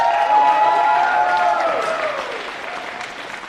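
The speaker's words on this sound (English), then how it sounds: "let's give them all a big round of applause" Applause and cheering from a crowd at the New Zealand Secondary School Climbing Cup 2022 top rope finals, a steady dense wash of clapping that slowly fades over a few seconds, with an announcer's voice faintly over it.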